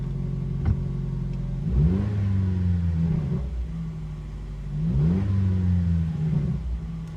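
A pickup truck's deep exhaust note through an SXTH Element off-road trail pipe rises through two clear acceleration pulls, revving up and dropping back, heard from inside the cab with the window down.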